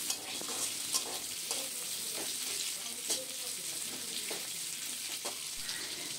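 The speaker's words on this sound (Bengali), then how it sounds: "পেঁয়াজটাকেও 2-3 মিনিটের জন্য নেড়ে চেড়ে নিয়ে হালকা ব্রাউন করে ভেজে নেব" Chopped onion stirred and fried in a pan for potol bhorta, with a continuous soft sizzle and repeated scraping strokes of the spatula, close and steady throughout.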